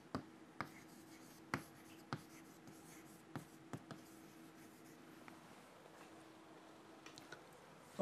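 Pen or marker strokes while drawing a wire drawing operation diagram by hand, a series of faint scratchy ticks and short strokes at irregular intervals, close and quiet, with no talking.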